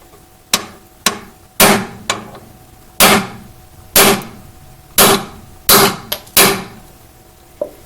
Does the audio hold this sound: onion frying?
no